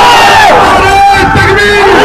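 A large crowd at a political rally loudly chants a slogan back in unison, a dense roaring shout filling the whole moment.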